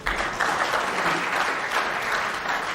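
Snooker spectators at a 2007 World Championship semi-final applaud a shot, a dense, steady burst of clapping from the crowd lasting a few seconds without a break.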